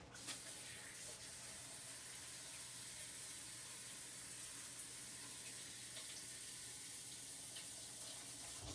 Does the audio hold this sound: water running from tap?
yes